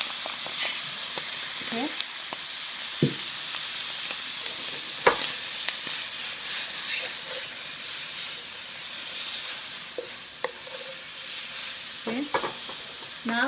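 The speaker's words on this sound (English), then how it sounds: "stir frying this to add a little bit of color to our meat" Strips of steak stir fry in a hot pan with soy sauce, giving a steady sizzling hiss broken by occasional scrapes and clinks of stirring, close by, with a voice briefly speaking.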